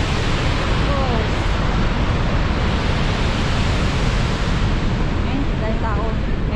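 Niagara Falls roars as a steady, dense wash of falling water close by, unbroken for the whole stretch, with faint voices of the crowd surfacing in the background.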